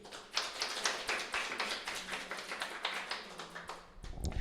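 A church congregation breaks into applause, a dense wash of many hands clapping steadily and fairly near, tapering off before the end.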